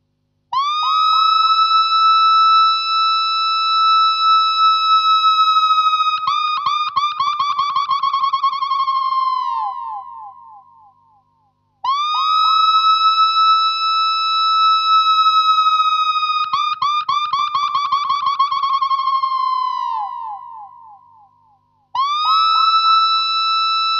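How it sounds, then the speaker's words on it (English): Electric guitar through a reversed wah setup, its tone knob swept to make a seagull-like laughing cry: loud, distorted, siren-like wails that rise and then slide downward, repeating in long phrases with brief gaps, heard alone. "explore how you manipulate the tone control to get that laughing sound"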